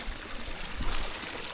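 Water rushing along a flooded public footpath in the Sussex countryside, running like a creek after rain; a steady, close, broadband gush and pour with no break, no voices.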